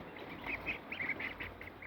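Repeated small quacking calls from ducklings, bursting irregularly at close range over a soft background hiss.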